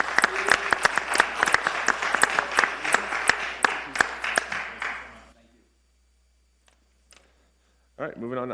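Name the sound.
round of applause at town council meeting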